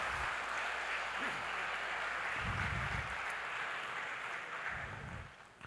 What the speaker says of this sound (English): I think let's give her a hearty round of applause